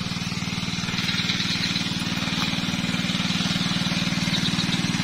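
Engine driving a pump for an irrigation hose runs at a steady, loud, low throb with a fast regular pulse and no change in pace throughout, and no talking over it.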